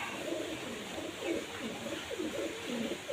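Pigeons in a coop, one black female fighting with a mate, give repeated soft low coos in a steady rolling rhythm over a constant background hiss, close and moderately loud with no talk.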